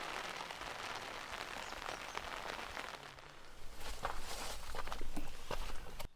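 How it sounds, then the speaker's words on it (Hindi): Steady rain falls through the forest at Lonar Lake, a dense close patter on leaves and ground that grows slightly heavier toward the end, with no voices. "तो बारिश शुरू हो गई है"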